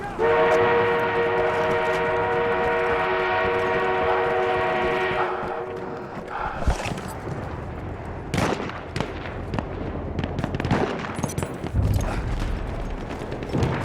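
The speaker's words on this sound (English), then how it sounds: "We have an armored train en route." An armored train in the Battlefield 1 multiplayer game sounds a long, loud horn for about five seconds, then rumbling and a clatter of gunfire and explosions follow.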